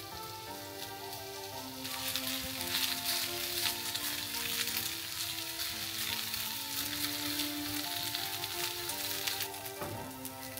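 Onion pancake sizzles in a frying pan, a steady close crackling fry with fine popping that swells slightly partway through and continues throughout without talk.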